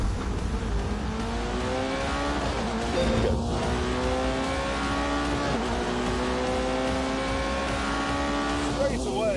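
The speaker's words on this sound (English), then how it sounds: "Soon, the McLaren and the Porsche were ready for some shakedown laps." Engines of a McLaren and a Porsche on shakedown laps in The Grand Tour Game drone and rise steadily through repeated gear changes, loud and close throughout, with brief squeals partway and near the end.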